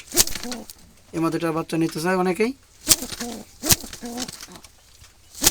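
Wild Jalali pigeons kept in baskets coo loudly and close, with two long rolling coos and shorter calls between sharp clatters and handling noises, while someone talks over them.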